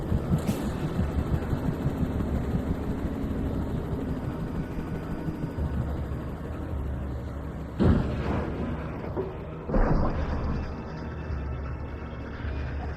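A helicopter is blown apart in Alan Wake Remastered: two heavy, booming blasts land a couple of seconds apart over a constant low rumble of engine and ambient noise.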